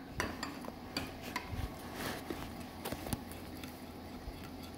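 Utensils clink and scrape against a pan as Chinese water bamboo is stirred with black pepper and chicken stock. The irregular metallic taps and stirring sounds are close and moderately quiet over a low background hiss.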